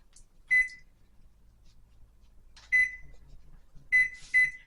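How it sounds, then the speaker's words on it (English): A kitchen oven timer is set, giving four short, clear electronic beeps, spaced unevenly with the last two close together, in an otherwise quiet room. "now I'm going to set a timer"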